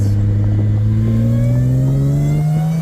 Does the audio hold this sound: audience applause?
no